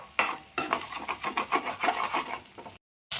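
Onions and egg being stirred together in a pan, giving a run of repeated scraping and clinking strokes, fairly close and steady, with a short silent gap near the end.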